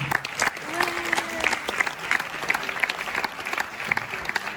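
Audience clapping steadily at a small local event, continuous applause with a few voices mixed in.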